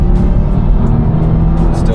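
Subaru WRX 2.4-liter engine revving hard toward redline from inside the cabin, a loud continuous drone climbing steadily, with a person talking over it.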